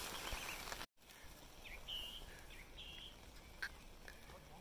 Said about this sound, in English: seagull, man.